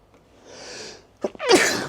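A single sharp sneeze with a quick inhaled buildup, close and loud, following a brief soft breathy sound.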